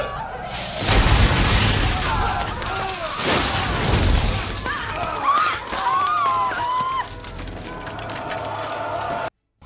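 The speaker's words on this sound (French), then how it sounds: "il va tirer sur les Anglais avec de la mitraille" Cannons fire grapeshot at English sailors during a privateer naval battle, heard as heavy booms and crashing bursts near the start, followed by sustained battle din with whistling tones and voices.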